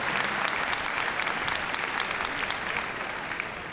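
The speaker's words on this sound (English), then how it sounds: "give it a round of applause" Audience applause after a dog freestyle heelwork-to-music routine at the Crufts dog show, a steady even clapping from a large indoor crowd, dense and sustained, slowly fading.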